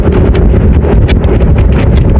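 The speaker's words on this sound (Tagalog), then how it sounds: "Napakalakas ng hangin mga idolo" Strong wind buffets the microphone during a fast road-cycling sprint race in Pangasinan, a loud, steady roaring rumble with gusty fluctuations throughout and no talk.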